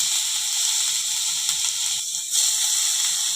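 Grated beetroot and carrot go into hot ghee in a kadai, setting off a steady, bright sizzle and hiss that flares briefly as the vegetables land, with no talking.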